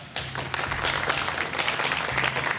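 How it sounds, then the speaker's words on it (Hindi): Studio audience at a Ramadan iftar television transmission breaks into applause for college quiz teams, a bright, busy burst of many clapping hands starting abruptly and staying strong throughout. "तालियां।"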